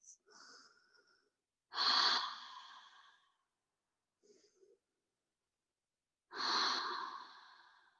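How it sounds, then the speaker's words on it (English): Three deep, audible breaths are taken while resting in a Pilates child's pose, each a slow airy exhale with quieter sniffing inhales between, close and intimate in an otherwise silent room. "Press back, child's pose. 3 big breaths."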